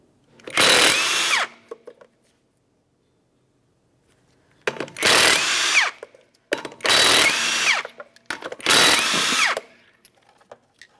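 A power tool loosens the 19mm lug nuts on a 1994-1997 Honda Accord front wheel in four loud, close whirring bursts separated by short pauses, with no talk.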